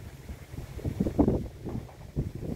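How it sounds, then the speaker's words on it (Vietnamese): Strong gusty wind buffeting the microphone outdoors during kite flying in a field, low rumbling bursts that rise and fall unevenly, loud and close with no talk. "Gió dữ lắm mà."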